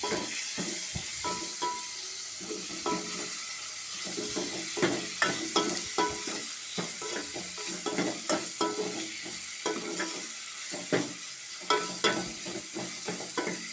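Tomatoes frying in a pan for egg curry, a steady hiss and sizzle with repeated scraping stir strokes, close and fairly quiet, no talking.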